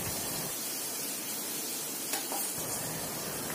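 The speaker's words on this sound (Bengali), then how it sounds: "মশলাটা ওই কড়াইয়ে ঢেলে দিলাম। এবার কষতে দিয়ে দিচ্ছি।" Spice paste with whole torn chilies sautés in a kadai with a quiet, even sizzle, plus a few faint scraping stirs near the middle and no voices.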